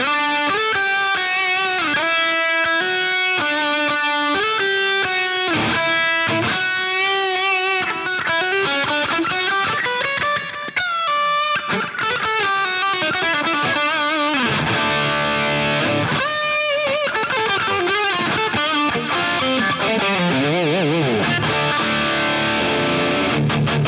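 An electric guitar plays a pop punk lead line with overdrive, delay and reverb, sustained notes ringing out with echoing repeats across a continuous, loud passage with no talking.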